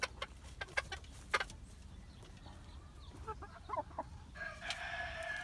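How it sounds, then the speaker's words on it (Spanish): A rooster crows among other chickens in a friend's yard, faint crowing and clucks with scattered close clicks and a brief bright call near the end. "Está bonito el gallo."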